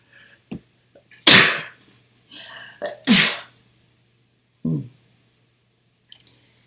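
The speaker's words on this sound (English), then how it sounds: "I'm going to sneeze." Two loud sneezes burst out close by, separated by a brief pause, with small clicks and breathy sounds scattered around them.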